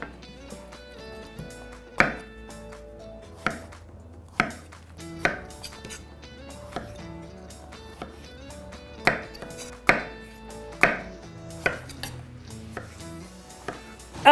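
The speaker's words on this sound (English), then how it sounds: "we're just now going to cut off the tops and then cut them into fourths" A knife cuts hulled strawberries into quarters on a cutting board, making a run of sharp, close knocks at an uneven pace, about a dozen in all, over steady background music.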